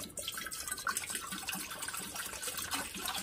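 Water pours steadily from a tap into a steel pot for making sugar syrup, about 500 ml, producing a faint, continuous splashing gush with no talking.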